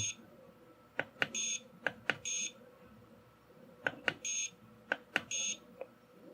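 A KWS-AC301 digital wattmeter's voltage warning alarm sounds in two bursts of sharp beeps mixed with longer high-pitched tones, repeating with a pause in between, over quiet background hum.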